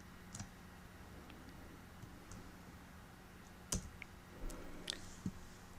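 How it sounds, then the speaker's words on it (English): A few sharp left mouse button clicks snap out at irregular intervals during object selection work on a computer, close but fairly soft above a low steady background hum. "I'm going to click and hold my left mouse button"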